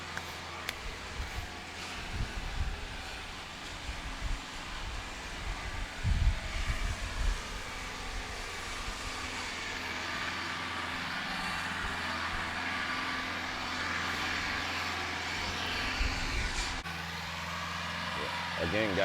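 Mahindra tractor engine running steadily during land clearing work, a continuous low rumble with some wind buffeting on the microphone and a person talking over it.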